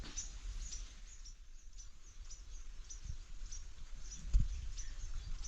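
Faint, high-pitched peeping from sparrow chicks in a nest repeats steadily against a quiet background hiss, with one brief soft knock partway through.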